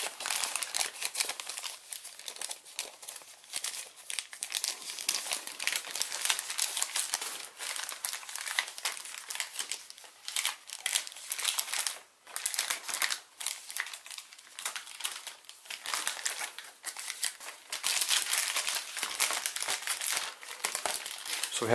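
Sheets of origami paper are folded and crinkled by hand for a Walking In The Rain model, producing continuous close, crisp rustling and crackling with irregular bursts and brief pauses over about twenty seconds, no talking.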